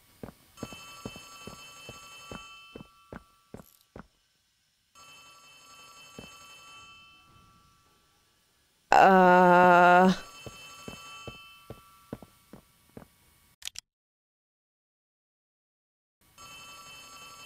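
Telephone ringing in a horror video game, with sharp repeated rings, a brief loud electronic tone burst, then quiet gaps and more rings, while a person talks at times.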